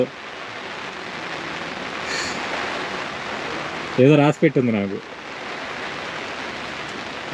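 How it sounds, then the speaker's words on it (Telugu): Heavy rain falls over a backwater lake on Munroe Island, Kerala, a steady broadband hiss that fills the scene from start to end, with a brief burst of a man's speech in the middle. "ఎటు చూసినా ఫుల్ వర్షం అటు చూడండి అటు చూడండి ఎంత వర్షం"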